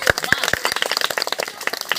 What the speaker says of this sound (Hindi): ताली बजा दीजिएगा।